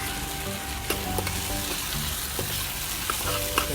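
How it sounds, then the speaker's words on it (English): Poha gets stirred into lightly charred fried onions in a pan, with a continuous close sizzle broken by scraping spatula strokes and scattered small clicks. "All we have to do is mix in the poha."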